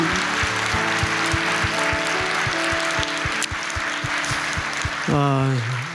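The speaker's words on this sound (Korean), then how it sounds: "큰 박수로 영광을 돌리겠습니다." Church congregation applause during a service: a broad, continuous wash of clapping under sustained musical tones and steady low thumps, with a voice rising near the end.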